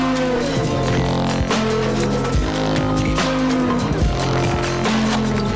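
The ending of a track plays as loud, dense recorded music, with heavy distorted low-end hits and harsh noisy textures pulsing steadily.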